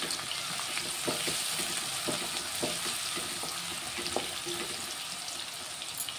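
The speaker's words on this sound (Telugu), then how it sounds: "కొంచెం ఫ్రై అవ్వాలి ఉల్లిగడ్డలు." Onions sizzle steadily in hot oil in a pan for a meal maker and potato masala curry, a constant close crackle broken by occasional scraping knocks from stirring.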